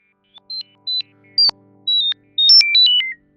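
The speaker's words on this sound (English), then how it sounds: "It produces quite unusual results, almost as if old telephone modems were talking." Paine Peaks synthesizer playing its Modem Talking preset, a run of short, chirpy, beeping electronic tones in quick bursts that grows into a warbling, modem-like chatter, clean and close with silent gaps between phrases.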